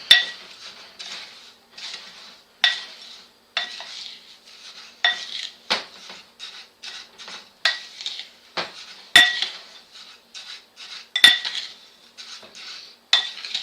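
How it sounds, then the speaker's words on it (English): A Himalayan and Epsom bath salt mixture with essential oils and dried flowers being stirred in a bowl: close, repeated scraping clinks and grainy rattles in an uneven rhythm, with a few sharper knocks against the bowl and no talking. "So you're just going to want to stir this nicely."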